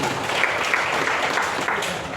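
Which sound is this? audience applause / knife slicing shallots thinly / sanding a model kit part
audience applause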